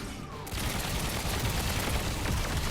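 Rapid, continuous machine gun fire from a tank in the building game Trailmakers, a dense loud rattling burst that starts abruptly after a brief quiet moment and runs without pause.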